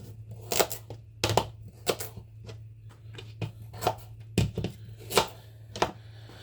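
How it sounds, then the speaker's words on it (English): A knife chopping the ends off vegetables such as swede, carrots and parsnips on a cutting board, about a dozen separate close thunks at an uneven pace, with a low steady hum underneath. "So yeah, then we're going to grab a knife. There we go. Just whop the ends off."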